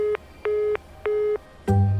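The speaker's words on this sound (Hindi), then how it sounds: "हर बार एक घंटी बजते ही बिजी आने लगा" A telephone busy signal: three evenly spaced beeping tones in a steady on-off rhythm, clear and alone, followed by a louder burst of noise at the end.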